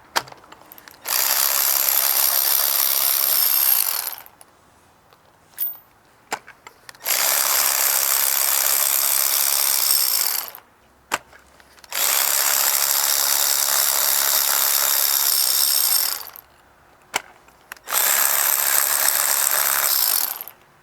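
Ratchet fitted with a magnetic socket loosening spark plugs from an engine, four loud bursts of rapid clicking, each lasting a few seconds, separated by brief pauses with faint knocks.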